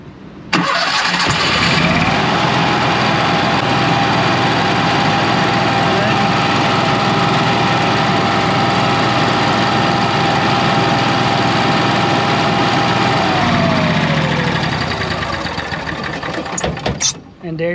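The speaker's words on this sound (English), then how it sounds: "Generator start stop from the Victron remote app is working." An onboard generator started by remote primes, cranks and catches, then runs as a loud steady engine drone with a whine for about twelve seconds before winding down.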